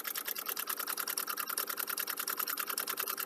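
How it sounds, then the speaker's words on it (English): A sewing machine runs steadily, its needle chattering in a fast, even rhythm, close and moderately loud, with no talk. "I know that the machine can be a little bit noisy sometimes"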